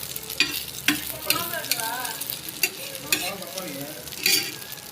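Egg kalakki sizzles softly in a pan as a utensil scrapes and stirs in repeated strokes, close by, with a faint voice speaking in the background.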